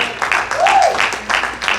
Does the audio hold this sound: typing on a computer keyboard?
no